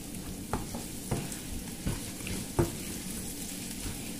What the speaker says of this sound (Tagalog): lahat naman tayo marunong mag-gisa. Ang sibuyas, bawang, at syempre luya